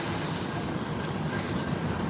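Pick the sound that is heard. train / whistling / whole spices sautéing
train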